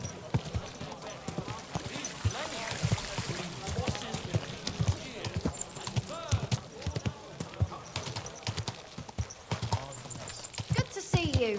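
Horse hooves clip-clop steadily in Kingdom Come Deliverance 2, a medieval open-world game, with a busy stream of regular hoofbeats mixed with game ambience while a voice speaks over them.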